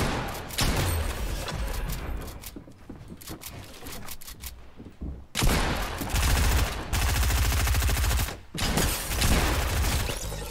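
Pump shotgun blasts and rapid gunfire from a Fortnite match, loud and dense, with a busy stretch of shots at the start, a short lull, then heavy sustained firing over the last half.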